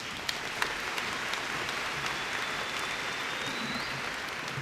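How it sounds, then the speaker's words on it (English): Audience applause at a Dalton State College spring commencement ceremony, a steady, dense wash of many hands clapping at moderate distance throughout, with no voices over it. "Why don't we give them a round of applause?"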